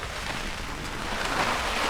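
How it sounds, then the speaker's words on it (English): Rain pours down outdoors during a backyard cookout in a storm, a steady broadband wash of falling water close to the microphone, continuous and fairly loud, with no one speaking. "But it's still raining on me."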